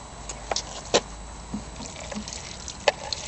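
Oil draining from a lawnmower during an oil change falls into a bucket of dirty, soapy, bubbly water, making faint scattered drips and small splashes at an irregular pace.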